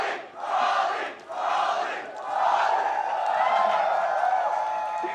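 A large esports arena crowd at the League of Legends World Championship roars and cheers in sustained waves, loud and reverberant, with brief dips between swells of shouting.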